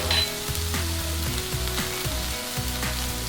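Paprika and ground cumin sizzle with softened pepper in a cast iron Dutch oven, a close, constant frying hiss with fine crackles and pops over a soft tonal background.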